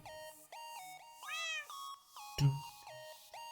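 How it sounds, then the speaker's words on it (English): A cat in Minecraft meows repeatedly, a string of clear synthetic meows and a couple of rising, wavering calls, close and fairly quiet, with one sharp click partway through. "So Kitty will just meow wherever we are"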